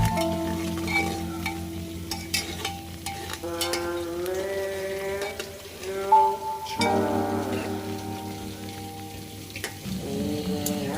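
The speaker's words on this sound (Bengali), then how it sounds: "পেঁয়াজটা একটু ভাজা ভাজা হয়ে গেছে" Onions frying in a pan for mutton curry, a continuous low sizzle with faint crackles and stirring, partly masked by steady tonal sounds in the room.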